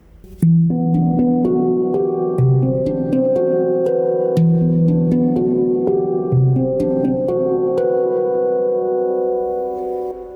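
An E Amara 20 handpan plays a flowing melodic bridge phrase, struck notes ringing with bright, sustained overtones in a steady, gentle rhythm.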